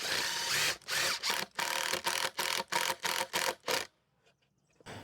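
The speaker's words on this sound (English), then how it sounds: "You do need a 3/8 inch socket for this." A 3/8-inch socket ratchet tightens the bolts on a hose reel mount bracket, giving about eight quick, evenly spaced bursts of clicking up close, followed by near silence.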